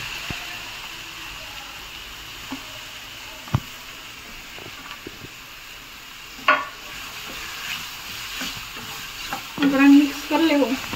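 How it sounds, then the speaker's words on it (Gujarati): Onions tossed into a pan and fried for kaju lasan (cashew-garlic) sabji, a steady broadband sizzle with scattered stirring scrapes and clicks, a brief voice near the end. "તો જો આપણે હવે ડુંગળી નાખી દઈએ,"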